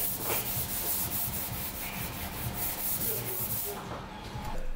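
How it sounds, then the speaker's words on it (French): Hand sanding primer on an Audi 200 Quattro body with a sanding block, a steady close rhythmic scraping with repeated back-and-forth strokes, no talk. "J'ai passé pas mal de temps à poncer à la cale."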